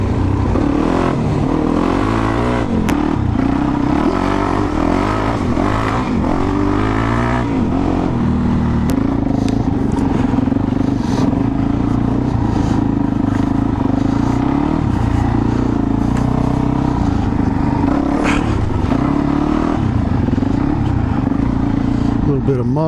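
A Suzuki DRZ400 dirt bike on a muddy trail ride, its single-cylinder engine chugging and revving up and down with a low throbbing note, close and loud, with clattering and some talk over it.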